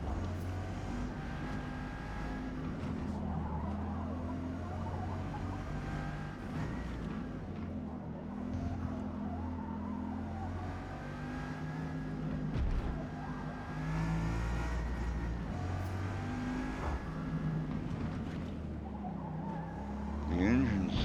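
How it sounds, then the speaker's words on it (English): Bugatti Veyron racing at Le Mans in Forza Motorsport, a subdued, continuous engine drone that rises and falls as the car accelerates, with no talking. "The engine sound on this car is really, really muted."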